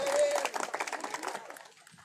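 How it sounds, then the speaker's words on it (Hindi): A rally crowd at a community gathering in Madhya Pradesh breaks into brief applause, a quick flurry of clapping that fades out within two seconds. "एक बार तालियां इनके लिए"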